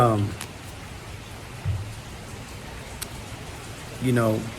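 Steady rain falls outdoors as a continuous hiss throughout, with a voice speaking briefly at the start and end over it.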